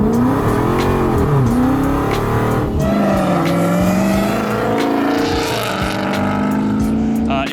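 A low-mileage Dodge Demon 170 engine rumbles loudly and steadily nearby, its pitch rising and falling with revs, while voices talk over it in a garage.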